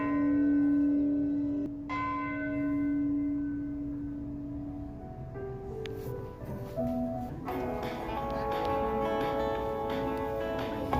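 A church bell tolls in memory of Titanic victims, sounding several separate strikes whose bright tones ring on and slowly fade, each stroke overlapping the last, with no talking.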